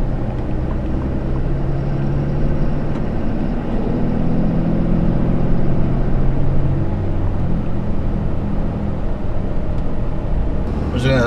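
A 2013 RAM 3500 Laramie Longhorn dual-rear-wheel heavy-duty pickup drives along with a steady, loud low engine and road drone that holds throughout, with a brief clunk near the end.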